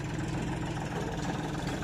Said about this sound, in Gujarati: હાલો આપણું ટ્રેક્ટર જાય છે